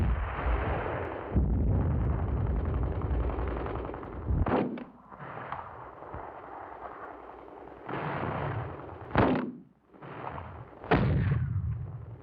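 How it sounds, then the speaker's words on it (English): Mortar fire in wartime combat footage: several heavy booming blasts and sharp reports come in bursts over a rumbling battlefield background, loud and fairly close, with brief lulls between volleys. "Mortars support the advance at close range."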